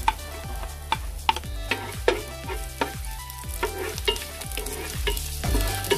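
Onions sauté in a hot oiled pan, a steady sizzle punctuated by a regular series of rhythmic stirring scrapes and taps against the metal, close and moderately loud, no one speaking.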